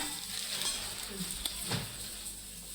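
Oil heating in a kadai gives a continuous sizzle with some stirring and light clinks, close by and steady, with no one speaking.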